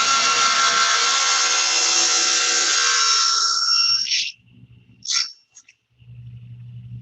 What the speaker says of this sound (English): we can adjust where it cuts our tenon